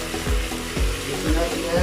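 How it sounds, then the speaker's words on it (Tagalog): Coconut milk poured into a pan of sizzling lobster for Bicol Express, a loud steady hiss of frying with rhythmic stirring scrapes repeating about twice a second, close and without talk. "ilagay na natin yung ating takang gata"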